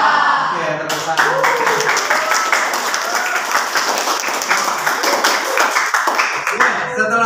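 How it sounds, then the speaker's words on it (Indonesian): Students in a classroom break into brisk hand clapping together, a dense run of sharp claps lasting several seconds with a few voices mixed in at the start. "Oke, tepuk tangan."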